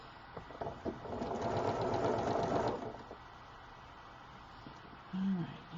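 A sewing machine stitches fabric in a fast, steady whir for about two seconds, close and clear, then stops; quiet room tone follows with a brief voice near the end.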